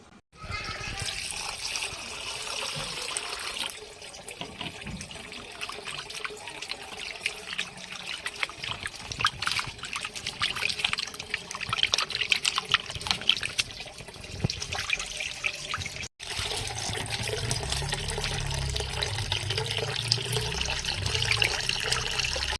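Tap water running and splashing steadily as raw chicken meat is rinsed for a curry, a continuous close trickle and pour with hand movements through the water, no talking.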